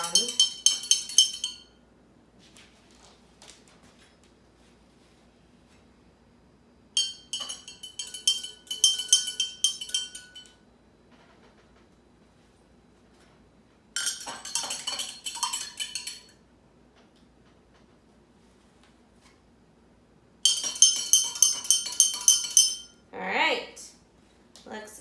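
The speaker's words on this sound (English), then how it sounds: "just mix it around." A spoon stirs food-coloured water in cups in four separate bursts of rapid, bright metallic clinking against the cup sides, with quiet pauses between and a voice talking briefly near the end.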